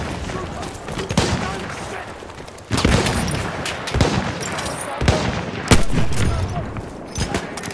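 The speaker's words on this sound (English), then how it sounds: "There's an enemy machine gun." An enemy machine gun fires in the Battlefield 1 video game on the Achi Baba map, loud rapid bursts with sharp cracks and heavy booming impacts recurring across a noisy battlefield.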